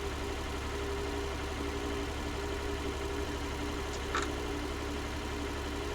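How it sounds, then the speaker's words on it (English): An old Nuffield or Fordson tractor engine drones steadily as it runs downhill during hay carting in 1966, a constant low rumble with a brief faint squeak near the end. "At least now we are getting top speed out of the tractor,"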